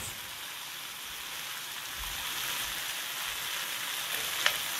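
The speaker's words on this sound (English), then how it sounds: "I'm going to want it to be really seared on both sides" Flanken-cut seasoned short ribs sear in a hot pan on a stovetop, giving a steady, moderate sizzle that runs the whole time without pause, with one small sharp pop near the end.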